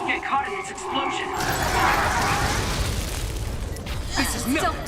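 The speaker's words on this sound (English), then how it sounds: "You'll get caught in its explosion." Explosion in the video game Scarlet Nexus, a booming burst with a rumbling tail that swells and lingers for several seconds amid other combat effects.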